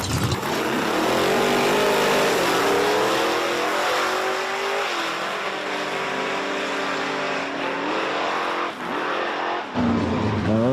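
A hatchback Mustang drag racing at Virginia Motorsports Park during a 2024 Outlaws event, a loud, sustained engine roar rising through the run with short dips in pitch near the end.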